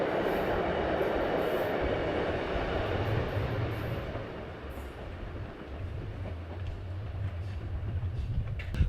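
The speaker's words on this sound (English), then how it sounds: "it's time to do some trains" Heritage narrow-gauge train of the Bure Valley Railway near Wroxham station, a steady rumbling roar of a train running, with low hum and faint wheel clatter throughout, no talk.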